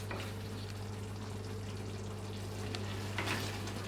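Mapo tofu fries in a wok over a gas flame, a low steady sizzle over a constant hum, with a few faint clinks and stirs near the end and no one speaking.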